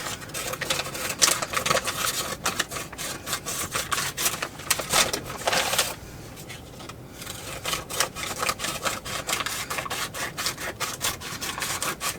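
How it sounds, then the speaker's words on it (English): Paper being cut around a shape for a junk journal craft page, heard as rapid, rhythmic close-up snipping and rubbing with a short quieter gap midway. "So now we'll cut all around here."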